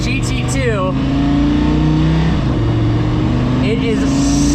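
An Audi R8 LMS GT2 race car engine drones loudly from inside the cabin, holding a steady low pitch while pulling away in first gear, with brief higher whines and a voice talking over it.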